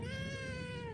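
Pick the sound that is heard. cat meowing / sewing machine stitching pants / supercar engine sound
cat meowing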